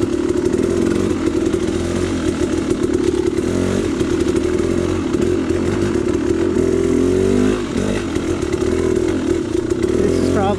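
A dirt bike ridden along technical Tahuya single track trail, its engine buzzing loudly and continuously with revving surges and rattling clatter over rough ground, close to the rider.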